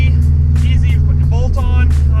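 A 2002 Subaru WRX fitted with a Perrin short ram intake idles with a loud, close low rumble while someone talks over it.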